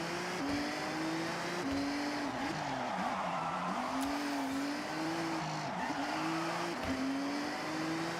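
A Mazda RX-7 in a driving video game revs steadily through a corner with the e-brake pulled, its engine tone rising and dipping repeatedly under a continuous hiss of tire noise, heard alone with no voices.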